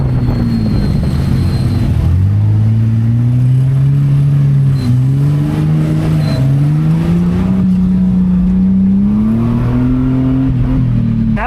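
Jeep Grand Cherokee WJ engines drone and rev steadily at close range in a dirt-track race, pitch rising and falling, with a continuous loud motor hum throughout.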